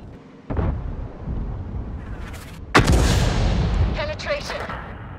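Tank cannon fire in World of Tanks with an M53/55: a deep booming shot, then a second heavier blast with rumbling decay as a round penetrates, followed by faint electronic beeps.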